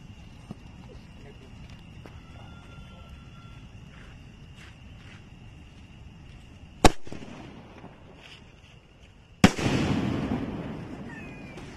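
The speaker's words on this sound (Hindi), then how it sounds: "अब इस आनंदा वाले स्काई शॉट को चला के देखते हैं कैसा जलता है।" An Anand brand sky shot firework launches with a sharp crack, then bursts a few seconds later in a louder, crackling bang that fades away. A quiet outdoor hiss runs underneath, with no talking.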